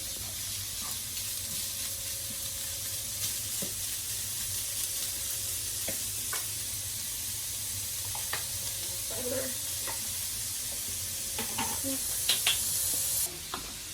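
Marinara meat sauce simmers in a pan with a continuous sizzling hiss throughout, dotted with small pops and a few faint utensil taps near the end.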